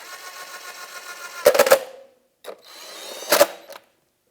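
Two short bursts of a power ratchet or driver snugging valve cover bolts on a 2000-2006 Honda CR-V engine, each a rapid rattling clatter, close and loud, with quiet gaps between.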